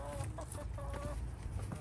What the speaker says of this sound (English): All the hens want to know what's up.